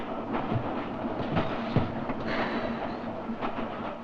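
A goods train rolling along the rails, with a continuous rumble and rhythmic clickety-clack of wheels over rail joints, steady and fairly close, with occasional sharper metallic knocks.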